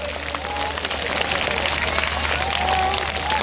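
Crowd clapping at a large Thakor community convention in Gandhinagar, a steady wash of applause that swells slightly toward the end over a low hum.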